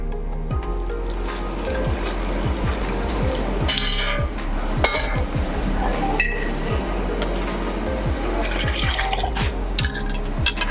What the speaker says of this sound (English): okay, and add some water.